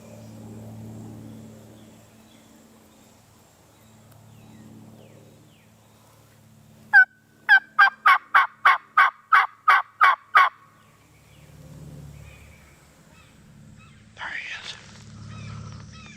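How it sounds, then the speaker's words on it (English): A wild turkey in a field gobbles far off, a rapid run of about ten sharp pulses rising clearly above quiet outdoor ambience, followed shortly by a second brief distant call, with low murmuring voices before and after. "That bird gobbled, but he's a long ways away."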